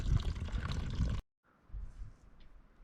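Drinking water brought from home pours outdoors at a backcountry mountain lake, a steady close splash that stops abruptly, followed by faint trickling.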